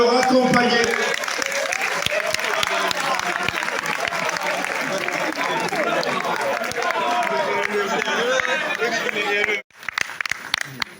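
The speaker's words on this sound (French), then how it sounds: "On va applaudir pour le raccompagner." Dense, loud applause from an audience at the Baobab d'Or 2024 ceremony as a guest is seen off the stage, with continuous clapping and crowd chatter that breaks off abruptly near the end, followed by a few scattered claps.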